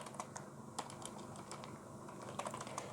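Code typed on a computer keyboard at a desk, quiet scattered key clicks in short irregular bursts over a soft steady room hum, with no voice.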